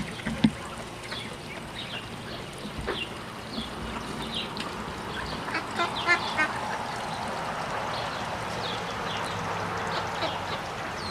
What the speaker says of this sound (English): this is where we have more mallards. They're a little bit older.